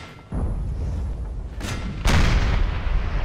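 A Napoleon Total War artillery battery fires a barrage: an initial boom followed by a sustained rumble, a sharp blast near the middle and a louder burst late, the heavy, low thunder rolling continuously throughout.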